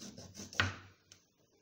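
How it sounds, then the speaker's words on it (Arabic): A knife cuts through a lemon on a board in a home kitchen while fish with vegetables is prepared: one firm, close scraping cut, followed by a faint second tick, with no talking. "غادي نقطع حتى الحامض"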